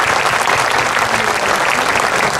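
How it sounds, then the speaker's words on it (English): An audience at a ribbon cutting for a new health clinic claps loudly and steadily, a dense, even burst of many hands close by, with no pauses. "An applause for them."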